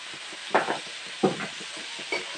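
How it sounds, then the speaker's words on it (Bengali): Bathua greens fry in hot oil with crushed garlic while a spatula stirs them in the pan, giving a steady low sizzle broken by three scraping stir strokes. "এখন তেল দিয়ে ভাজা করবো ভালো করে শাকটা।"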